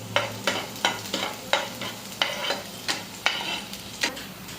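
Garlic and cumin fry in hot oil in a pan, a soft steady sizzle broken by about a dozen rhythmic scraping stirs of a spoon, close and fairly quiet.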